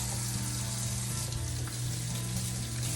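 A kitchen tap runs steadily as a soapy dishcloth is wetted under it, producing a continuous close hiss of flowing water.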